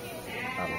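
A single Anglo-Nubian goat bleats once, a short wavering call that swells toward the end, close by and fairly clear.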